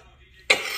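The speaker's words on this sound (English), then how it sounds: "Hold on, y'all, because I got a cough." A single sharp dry cough bursts out abruptly after a quiet moment, close and loud, with its breathy tail trailing off.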